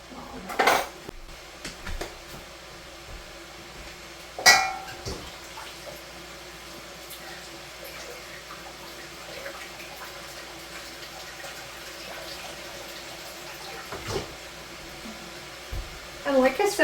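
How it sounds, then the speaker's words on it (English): Glass canning jars clink and rattle under hot tap water at a kitchen sink while green beans are being canned, with a few sharp knocks of glass against glass over a steady low rush of running water. "I just kind of run these jars under hot tap water"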